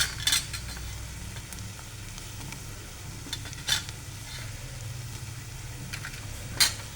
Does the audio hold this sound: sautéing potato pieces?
yes